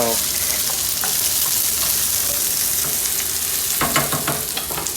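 Onions frying and sizzling in oil in a pan for ratatouille with heirloom tomatoes, a steady loud crackle with occasional stirring scrapes, no talk.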